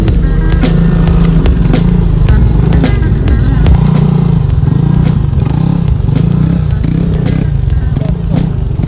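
A Yamaha NMAX scooter rides off-road on a hill trail, its engine droning steadily and loud throughout with rattling clatter from the rough ground.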